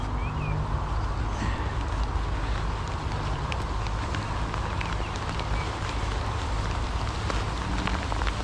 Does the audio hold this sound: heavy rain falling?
yes